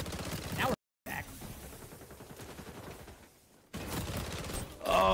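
Shotgun fire in the video game XDefiant: repeated blasts burst out over busy, continuous in-game action noise, loud and close, broken by a sudden short silence and a brief quiet stretch before the firefight resumes.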